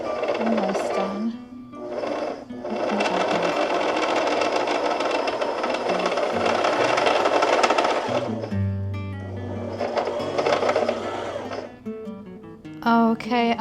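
A sewing machine stitches fabric in long steady whirring runs, loud and close, pausing briefly between bursts with a few clicks near the end.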